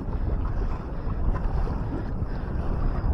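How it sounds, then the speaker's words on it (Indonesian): Strong wind buffets steadily over open sea off Brunei during kayak fishing, a constant low roar with waves and a boat's hum beneath, no voices. "Angin dah kuat"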